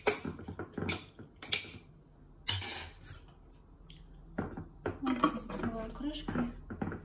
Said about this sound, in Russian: Закрываю крышкой.